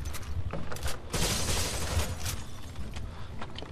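Gunfire in the video game Rainbow Six Vegas 2, a dense rattle of shots over a steady low rumble, loudest in the middle and trailing off toward the end.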